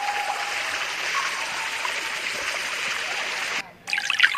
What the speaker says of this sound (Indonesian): suara gemuruh air sudah terdengar